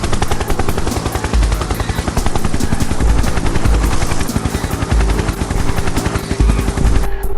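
A helicopter in Garry's Mod flies close, loud rapid rotor thumping with a steady mechanical whine, continuous and dominant with no talk.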